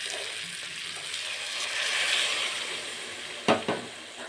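Vegetables with spices, including cauliflower, sautéing in oil in a pan, a steady close sizzle with a couple of sharp utensil knocks near the end.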